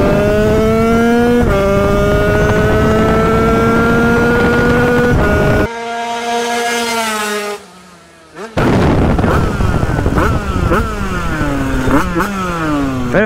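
An HM TPR 76 motorcycle revs hard on a test ride, its engine note climbing steadily through the gears, then falling briefly near and loud before roaring back up with sharp rising revs.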